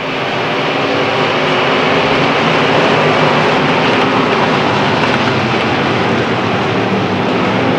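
Race cars roar through turns 1 and 2 at the start of a short-track race at Susky, a dense, loud, continuous engine drone of the pack sustained throughout with no break.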